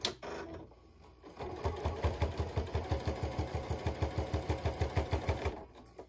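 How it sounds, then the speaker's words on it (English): A sewing machine stitches around a pillow's binding at a slightly longer stitch length, a close, steady rhythmic chatter of needle strokes that starts up after a short lull and runs evenly before stopping. "And then I just sew all the way around on the binding."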